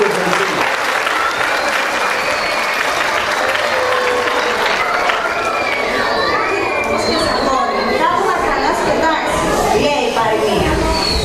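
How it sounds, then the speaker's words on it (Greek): Loud, sustained applause and cheering from a crowd, with children's shouts mixed in, at a school performance of traditional Greek Christmas carols. "Πολύ χειροκρότημα."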